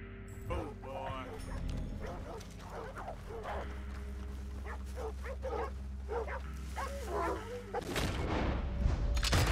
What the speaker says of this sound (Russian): Это не демон, это бешеные собаки просто.